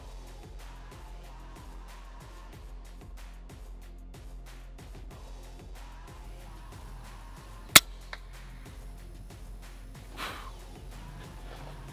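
An air rifle fires a single .177 HN slug during a long-range hunt, one sharp crack partway through a quiet stretch filled with faint, steady outdoor ticking.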